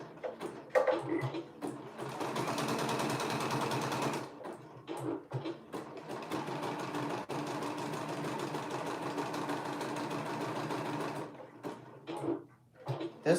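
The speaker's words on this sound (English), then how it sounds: "And I'm gonna do a zigzag stitch." Sewing machine running a zigzag stitch: two long bursts of steady mechanical whirring with a brief pause between them and short starts and stops at either end, close and fairly quiet.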